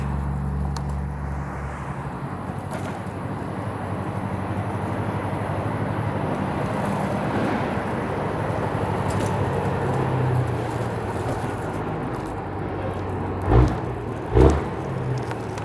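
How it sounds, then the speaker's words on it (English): A big truck rumbles close behind a cyclist on a Toronto city street, a steady low engine drone under wind noise, with two sharp thumps near the end. "Got a big truck on my tail here."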